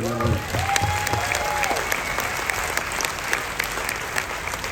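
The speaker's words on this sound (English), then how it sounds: "A round of applause." A comedy show audience in a cruise ship theater applauds: dense, steady clapping from a crowd fills the room and lasts several seconds, with a voice heard briefly at the start.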